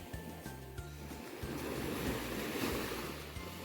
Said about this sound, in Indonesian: Gelombang di ujung sana sudah menghempas ke bibir pantai, yang di tengah masih menggulung